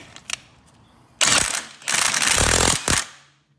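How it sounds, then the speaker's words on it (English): A socket wrench on a 22mm nut ratchets against an Arctic Cat ATV flywheel. A few faint clicks come first, then three loud, close bursts of rapid ratcheting clatter, with no talk. "I should be able to hold this right here and spin it until the flywheel pops off."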